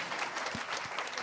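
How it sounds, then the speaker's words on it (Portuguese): An event audience at a media conference in Brazil breaks into applause, a soft, even patter of clapping heard from a distance, fairly faint and brief. "Yay, palmas, palmas."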